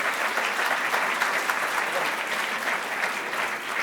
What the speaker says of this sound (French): Oui, oh ben oui, ce que vous applaudissez.